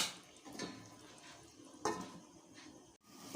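A metal lid placed on a cooking pot of simmering chicken: a few faint clinks and scrapes of metal on metal, spaced irregularly, with quiet kitchen background.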